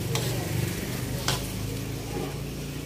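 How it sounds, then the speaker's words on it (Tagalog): Pancit bihon rice noodles being stirred in a sizzling pan, steady frying hiss with a couple of sharp scraping clacks of a utensil against the pan, close by. "Haluin lang natin ulit."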